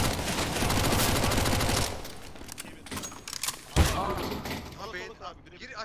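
Rapid bursts of gunfire in Counter-Strike: Global Offensive crackle loudly at the start, then thin to scattered shots and a sharp crack, with players talking over the action.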